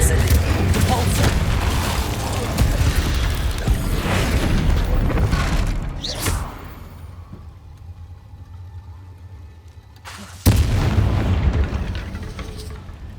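Spells Incendio and Repulsor cast in Hogwarts Legacy, heard as loud whooshing blasts and booms that cut out into a quiet lull before one more sudden blast, with someone talking over them.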